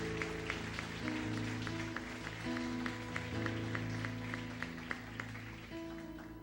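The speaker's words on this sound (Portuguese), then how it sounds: "Você pode aplaudir o Senhor?" A church congregation applauds steadily, soft and somewhat distant, with sustained music playing underneath throughout.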